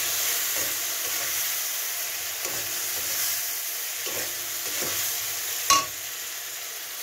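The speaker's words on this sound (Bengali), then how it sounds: "মশলাটাকে ভালো করে কষাবো।" Ground cumin, coriander, chili and turmeric spices fry and get stirred in a pan for a Bengali fish curry, a steady hiss of sizzling broken by a few soft scrapes and one sharp knock.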